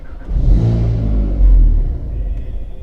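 A car engine cranks and catches with a rising rumble, surges once more, then dies away into quiet as the car stalls on its own due to a fault after an anti-theft system install.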